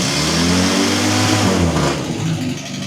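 An old barn-find Jeep CJ-5, parked 45 years, runs close by with a rough engine note that revs up and then settles back toward idle.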